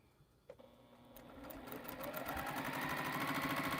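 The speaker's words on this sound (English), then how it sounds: "I'm going to sew this again" A domestic sewing machine stitches a quilt seam, starting after a couple of clicks and quickly building into a steady, rapid mechanical whir that grows louder and continues alone to the end.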